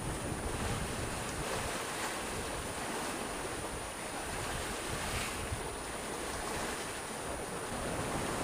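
Steady rushing wind and the wash of sea waves aboard a sailboat moving at speed in gusty breeze of about 18 knots, a constant loud broadband roar with no voices.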